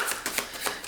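Tarot cards shuffled and drawn from the deck in a few quick, crisp riffling bursts, close and fairly quiet, with no voices.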